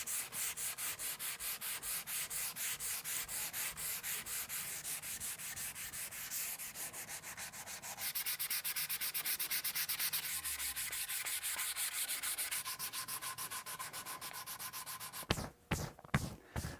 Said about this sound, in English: I've got the body sanded up to 320